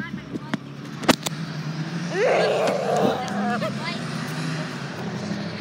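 A truck passes at night near a supposedly haunted wall, its engine rising and falling through the middle of the clip. Voices talk nearby and a sharp knock sounds early on.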